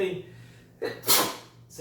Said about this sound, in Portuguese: tem um espirro em todo vídeo